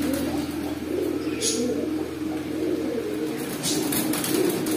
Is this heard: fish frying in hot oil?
no